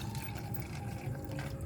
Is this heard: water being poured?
yes